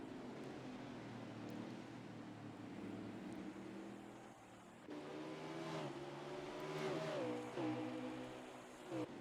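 Engine drone of a Toyota Camry stock car in the eSpark sim racing game at Martinsville Speedway, a steady harmonic hum that swells and pitches up and down as the car rolls through the corners.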